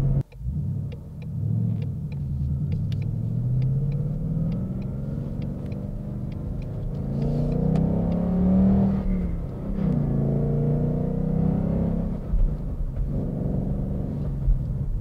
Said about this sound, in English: I like the exhaust sound that this thing makes a lot too